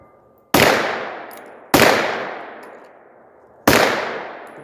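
Three loud, sharp gunshots from a Turkish MKE AP5, an MP5-style clone, fired slowly one at a time with a second or more between each, each crack trailing off in an echoing decay.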